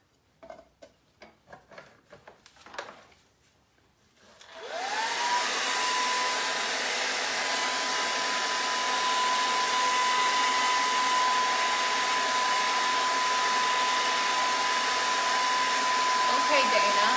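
A hair dryer drying paint on a wooden heart starts up after a few light taps and handling noises, then runs as a loud, steady, close whirring blow for over ten seconds.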